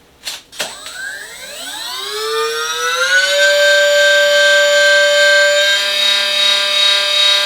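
R-Snake V16PRO engine sound module, resting on a wooden board, revving up from a couple of sharp initial pops into a rising, siren-like whine that climbs steadily in pitch and then holds a loud, sustained high-rev drone, with no talking.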